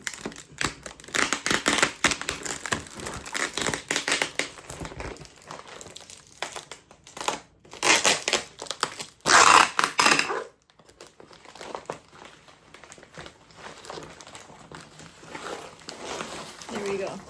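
Tape peeling and crinkling packaging on the box of a refurbished 2020 MacBook Pro during unboxing, with bursts of rustling and crackling in short spurts and a loud ripping stretch, quieter handling noise between.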